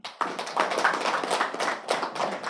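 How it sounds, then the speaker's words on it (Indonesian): An audience at a training session for trainers applauds a speaker, a dense steady clapping of many hands that starts abruptly and carries on throughout, fairly close. "mari kita berikan aplaus kepada Pak Heri"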